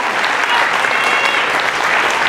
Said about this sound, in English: how about another round of applause if you would, please.